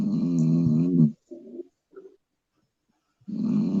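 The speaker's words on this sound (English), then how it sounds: "That's snoring." A person snoring at a gala dinner, one long rasping breath followed by a couple of short faint snorts, close and alone in a quiet pause.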